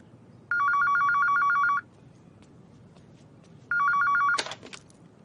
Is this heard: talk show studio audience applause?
no